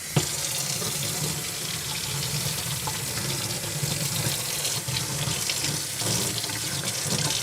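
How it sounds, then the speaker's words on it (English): Running tap water pours steadily over a rubber craft stencil being rinsed in a sink, a continuous close rushing splash with no pauses and no talking. "I'm gonna go put this stencil underwater."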